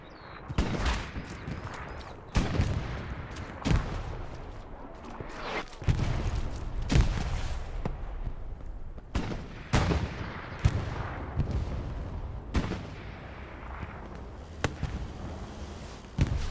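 Gunfire and explosions from a Company of Heroes match on the Kursk Windmills map, with sharp, loud bursts of shots and blasts recurring every second or two over a constant battle rumble.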